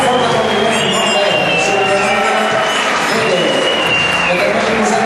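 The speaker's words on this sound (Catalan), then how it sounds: "Un fort aplaudiment, molt bé." Loud, steady applause from an audience at a Pubilla and Hereu election ceremony in La Cellera de Ter, a dense wash of clapping that runs unbroken for the full length with some voices mixed in.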